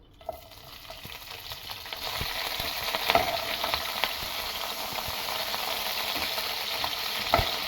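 Onions and curry leaves fry in hot oil with mustard seeds and cumin, a steady close sizzle with scattered pops and the scrape of stirring throughout.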